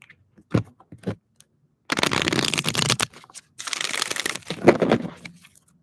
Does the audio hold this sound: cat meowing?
no